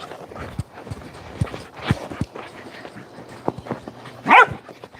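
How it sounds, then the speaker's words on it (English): A puppy gives one sharp, loud bark near the end, preceded by scattered light taps and clicks like paws on a hard floor in a quiet room. "Whoa, you got a big old bark."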